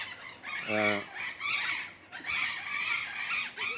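Parrots squawk and screech at each other in loud, overlapping bursts, close and continuous, with one brief harsh tonal call standing out near the start.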